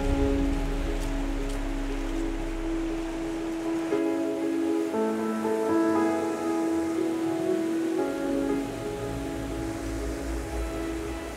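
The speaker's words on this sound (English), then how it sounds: "So as the rain tumbles down here in the wonderful Lake District" Steady rain falls outdoors in the Lake District, a continuous hiss of drops on surfaces mixed with faint tonal background sound, with no one talking.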